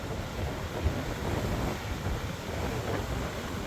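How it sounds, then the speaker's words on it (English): Surf rolling in at Ka'ena Point on Oahu's North Shore during high-wave season, a steady broadband wash of breaking waves mixed with wind buffeting the microphone, continuous and fairly loud with no talk. "Waves are really high this time of year."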